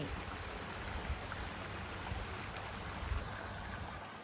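Water flowing along a canal beside a hillside land plot, a continuous broad rushing wash that holds steady before cutting off abruptly.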